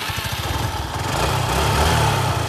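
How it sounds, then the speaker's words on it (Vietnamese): A twelve-year-old motorcycle engine fires up and settles into a steady, close putter that grows slightly louder and fuller partway through, with no voices over it. "Bây giờ Thận nổ máy cho anh nghe tiếng máy của nó coi còn ngon lành cặp đạo không?"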